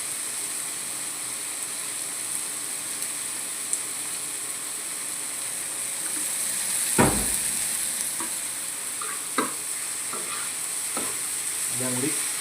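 Chili sauce stirred into food frying in a pan for a Kerala dish, a constant bright sizzle with a few sharp spoon knocks and scrapes scattered through it, close and steady.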